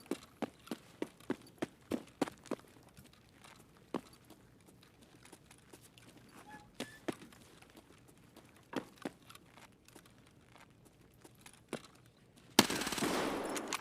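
A gunfight in Escape from Tarkov with a Mosin rifle in the mix: a fast run of sharp, fairly quiet shots early on, then scattered single shots, and a loud, sustained noisy burst at the very end.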